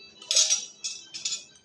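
A pressure cooker is set down on a gas stove, making a few quiet metallic clinks and taps in short bursts.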